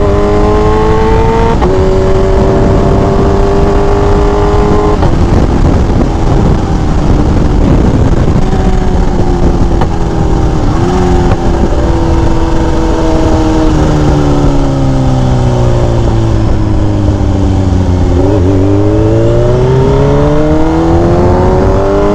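Kawasaki Ninja H2 motorcycle engine revving, loud and close, its pitch climbing and falling through several rises and drops over a continuous roar, with no talk.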